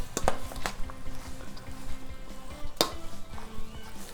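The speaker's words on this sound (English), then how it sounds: "Mix that in." Raw stuffed mushroom filling stirred by hand with garlic powder in a bowl, giving soft close squishing and scraping with a few sharp utensil clicks against the dish, no talk.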